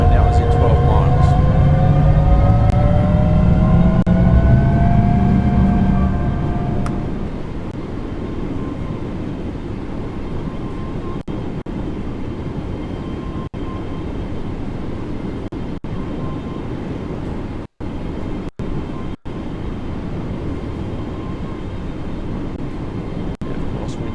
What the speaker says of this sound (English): Keep in mind that we have just let another train go past.